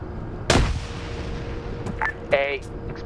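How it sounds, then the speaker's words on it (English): Video game combat: a loud explosion-like blast rings out amid scattered gunfire, followed by sharper metallic bursts and rattles, with a steady background hum throughout. "explosion"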